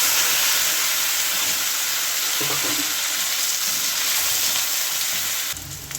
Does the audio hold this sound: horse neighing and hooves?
no